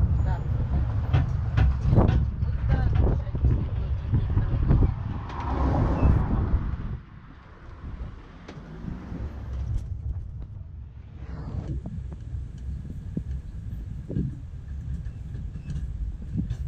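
A tourist train rolls through Rabat and Mdina in Malta with a steady engine rumble, clattering wheels and wind buffeting the microphone, while indistinct voices sit faintly underneath.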